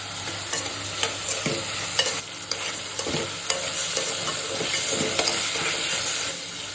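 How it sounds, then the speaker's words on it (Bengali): Potatoes and shrimp sizzle in a hot pan, a steady dense frying hiss broken by repeated scraping stirs of a utensil, close and loud with no talking. "আলু চিংড়ি মাছ ভাজা হয়ে গেছে"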